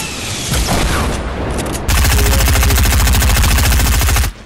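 SMG fire in Fortnite Battle Royale, loud and close: scattered shots at first, then a long unbroken rapid-fire burst of about two and a half seconds that cuts off abruptly.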